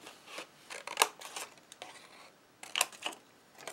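Scissors snip through a paper strip in a few quick, close, crisp cuts separated by short pauses, with faint rustling of paper in between.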